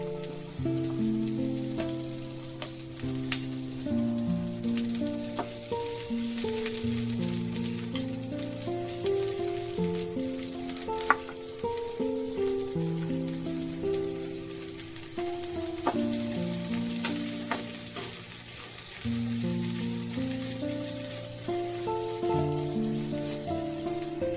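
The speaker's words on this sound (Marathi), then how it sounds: "कांद्यासाठी थोडं तेल टाकूया कांदा आहे ना आपल्याला लालसर भाजून घ्यायचा आहे" Onion frying in oil in a pan for a spicy masvadi curry, a steady soft sizzle running the whole time beneath melodic background music.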